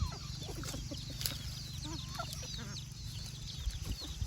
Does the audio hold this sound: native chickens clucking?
yes